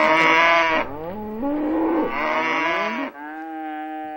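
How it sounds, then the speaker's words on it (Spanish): Cows moo and sheep bleat in long, loud, drawn-out calls that follow one another with brief pauses, with no talking. "¿qué son esas vacas que se escuchan allí? ¿Y qué son esas ovejas?"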